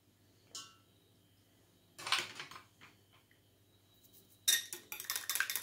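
Salt being stirred into eggs in a bowl for cake batter with a utensil, heard as a few sharp clinking and scraping bursts against the bowl separated by near silence, close and moderately loud.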